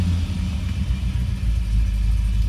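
A Ford Ranchero's engine idles at around 900 rpm, a steady loud low rumble with slight fluctuation, heard close and alone with no voices.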